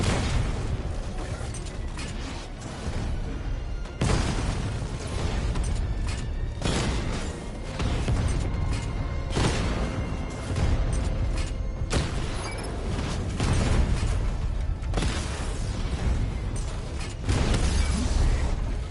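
Explosions and mechanical clanks from a Batman: Arkham Knight battle against Rattler drones, with repeated booms, bursts and metallic creaks in a dense, loud, continuous barrage of game combat sound.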